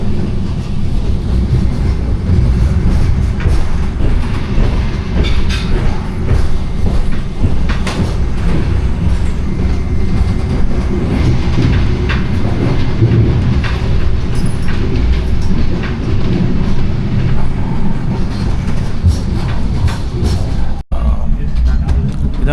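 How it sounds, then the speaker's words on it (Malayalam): Steady low rumble and rattle inside a moving train carriage, with faint clicks and clatter running continuously under a constant hum for the whole stretch. "ഇതാണ് ട്രെയിനിൽ നിന്നുള്ള കാഴ്ച"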